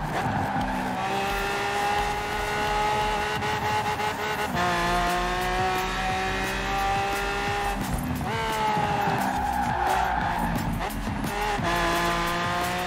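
In Forza Horizon 4, a game car drifts sideways with a sustained engine whine rising and dropping through gear shifts, overlaid by long tire squeals in several bursts.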